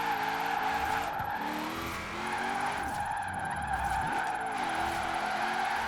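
Car drifting in Forza Horizon 4 with the handbrake held through a wide slide, bringing repeated tire squeals and skids over a revving engine whose pitch rises and falls.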